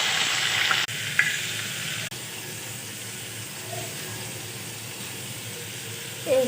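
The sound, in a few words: onions frying in mustard oil with fish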